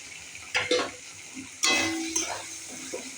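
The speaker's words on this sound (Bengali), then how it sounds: "সব একসাথে ভালো করে ভাজা ভাজা করে নেব।" Spices, turmeric, salt, a little sugar and green peas stir-fried together in a pan, giving soft sizzling with a few scraping stirs and clinks, fairly close and moderate in level, no talk.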